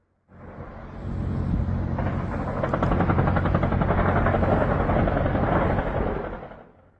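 An explosion at the port of Novorossiysk, a long, loud, heavy rumbling roar that swells quickly, holds for several seconds and then fades, with no voices.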